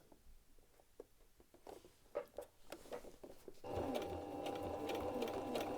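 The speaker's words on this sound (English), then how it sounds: "I'm going to stitch right to the edge, one stitch off, and then back stitch back on." Sewing machine stitching along the band edge of a t-shirt: soft separate needle taps at first, then a steady continuous whir of rapid stitching that carries on to the end, close and moderately quiet.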